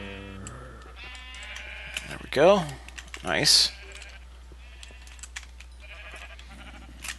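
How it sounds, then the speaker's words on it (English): Sheep in the video game Minecraft bleat twice in quick succession, fairly loud and close, amid keyboard typing and clicking, with someone talking briefly early on. "Making his way past the sheep area."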